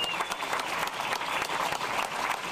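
A crowd applauds at a public celebration honouring a local athlete, with a dense, continuous wash of clapping at moderate distance and an even level throughout.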